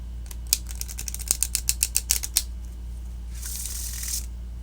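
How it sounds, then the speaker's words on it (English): A deck of Mists of Avalon oracle cards being shuffled by hand, a quick run of crisp riffling clicks, then a soft sliding swish, close and quiet over a low steady hum. "Let's give it a couple shuffles and see how that goes."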